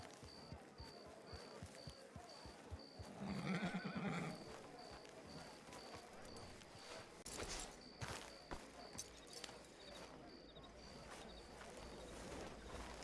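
Horse whinnying briefly in a Wild West roleplay video game, set against faint ambient game sound with soft hoof clops and occasional voices talking.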